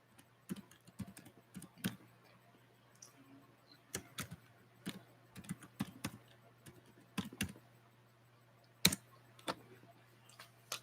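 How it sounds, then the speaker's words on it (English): Keyboard typing in irregular bursts of sharp, close clicks as an email address is entered, with short pauses between runs of keystrokes and a low steady hum underneath. "I'm gonna type my email because I can."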